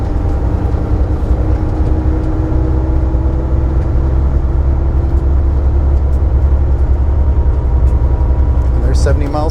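Heavy-duty truck cruising in top gear at highway speed, a loud continuous low engine drone and road rumble throughout, with a brief rattle near the end.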